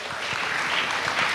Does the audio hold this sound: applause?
yes